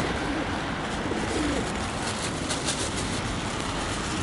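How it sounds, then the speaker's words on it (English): Pigeons coo softly in the rain, their low calls partly buried under a steady, close hiss of falling rain. "Very wet pigeon today."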